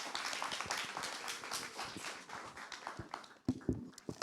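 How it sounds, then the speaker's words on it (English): A university livestream audience at a student election event applauds a candidate for social vice, a dense, steady wash of clapping with a few sharper nearby claps toward the end. "Let's have a round of applause for Mark."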